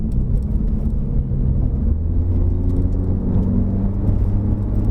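A modified 2012 Honda CR-Z fan car cruising on the Genting road in normal mode, a steady low engine and road drone with a continuous whir, heard from inside the cabin without talk.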